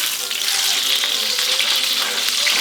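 A steak sizzles steadily in a hot pan while being turned over and over, the frying loud and continuous throughout with a few soft scraping sounds.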